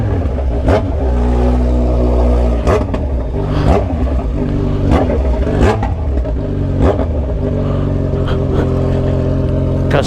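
A Kawasaki Z900RS motorcycle fitted with a stainless steel 304 header and slip-on exhaust revs loudly up close, giving repeated sharp blips and rising bursts over a rumbling idle, with no voices.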